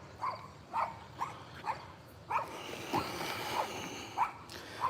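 A neighbour's dog barks repeatedly in a yard, a steady series of sharp, fairly close barks at an even rhythm with no talk over them.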